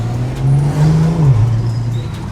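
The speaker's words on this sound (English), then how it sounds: "we're out for the first drive in the M340i after the gearbox has been fitted" BMW M340i with a freshly fitted gearbox, driven gently on its first outing; a loud, close engine hum rises slightly, then settles lower as the car cruises, with road noise underneath.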